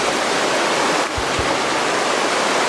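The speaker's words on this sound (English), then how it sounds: "Working up the creek bottom." Creek water rushing along a creek bottom in high Alaska brown bear country, a steady, loud, close wash of flowing water that fills the whole moment.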